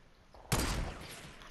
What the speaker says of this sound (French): Touché au sniper.